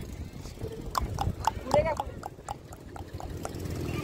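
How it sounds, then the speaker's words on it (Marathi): Horse cart hooves clip-clop in a steady, close rhythm throughout, with people talking over the hoofbeats. "कसा करतो घोडा?"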